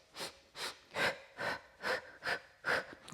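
Heavy rhythmic breathing during Pilates pumping exercise: seven forceful, evenly spaced breaths about half a second apart, close and clear, with no talking.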